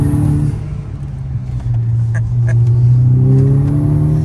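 Volkswagen Golf VI R with a 330 hp engine rumbling loudly and close, its deep steady drone rising and swelling in a sustained rev toward the end.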